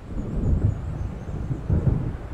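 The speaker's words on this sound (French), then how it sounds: "On dirait qu'un orage approche." Low rumbling thunder of an approaching storm in the video game Alan Wake, rolling in two swelling waves over steady ambience, fairly close and moderately loud, with no voices.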